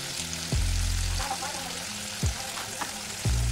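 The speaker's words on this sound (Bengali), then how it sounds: "এবার আমি মাছগুলো দিয়ে দিচ্ছি।" Fish simmer in a boiling curry gravy for a Bengali macher jhal, with bubbling pops and gurgles rising at intervals over a low steady cooking hiss.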